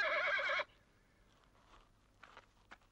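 A horse gives a loud, close whinny lasting about half a second, followed by quiet background with faint scattered shuffling noises.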